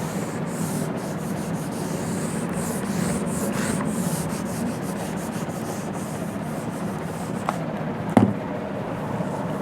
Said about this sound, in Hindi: अब मैं इधर का रब करने जा रहा हूँ